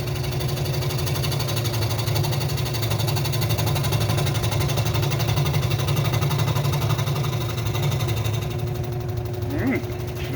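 Steady mechanical buzz of a Ryobi scroll saw cutting a wooden letter, its motor and reciprocating blade holding a constant drone throughout, close and fairly loud, with a small shift near the end.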